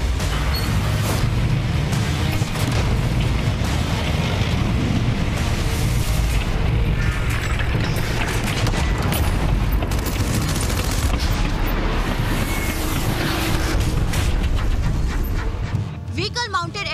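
Indian Army artillery and missile regiments fire during a desert war exercise in Rajasthan, producing a dense, continuous barrage of booms and blasts that rumbles without pause, with a voice talking over it.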